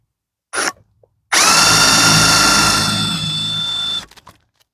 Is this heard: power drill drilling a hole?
yes